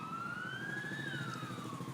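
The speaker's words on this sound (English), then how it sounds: "He hears the sounds of police sirens." Police siren in a movie trailer, a faint wailing tone that rises and falls once over a low rumbling background of city or traffic noise.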